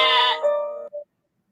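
A goat bleats once, loud and close: a single wavering cry that trails off and stops abruptly, followed by silence.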